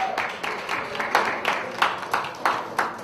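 An audience gives a round of applause at a youth gathering, a light, fairly sparse spatter of hand claps with a few sharper individual claps standing out over a soft background.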